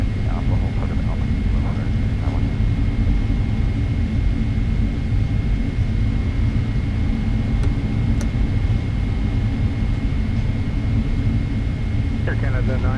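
A Boeing 777-300ER jet airliner at Minneapolis–Saint Paul airport (KMSP) produces a steady, heavy engine roar that fills the whole clip, with radio voices talking over it.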